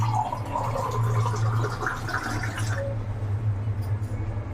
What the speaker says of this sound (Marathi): हे 2 ग्लास मी पाणी टाकणार आहे